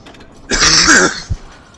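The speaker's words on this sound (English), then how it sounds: "I've been coughing for like almost non-stop for the past few days" A single harsh, rasping cough from a sick person who has been coughing almost non-stop for days bursts out close by, followed moments later by a short throat-clearing grunt, with no talking.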